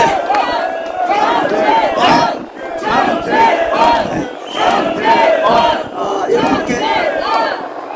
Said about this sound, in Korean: 우리 장재현 박사님께 다시 한번 큰 박수로